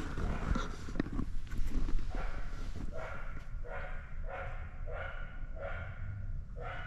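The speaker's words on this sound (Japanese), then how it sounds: "すごい吠えてる。" Repeated dog barks at a steady rhythm, several in a row, a little distant over constant outdoor background noise at a muddy campsite after rain.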